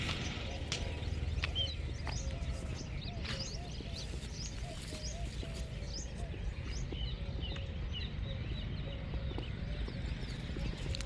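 Mares, one of them black, run loose in a farm field with hooves clip-clopping at a moderate distance, while birds and chickens call faintly in the background.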